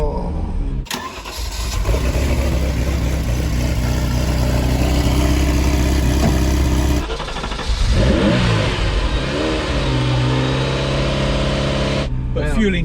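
A Ferrari 328 GTB, an old fuel-injected car, cranks and fires up, then revs loudly in several rising and falling pulls before settling. The engine is close and dominant throughout.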